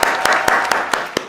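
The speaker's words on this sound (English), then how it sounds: "Clap it up for the vlog being on the vlog" A small group clapping in appreciation, with a handful of sharp, loud hand claps standing out at uneven intervals over a steady, close patter of applause.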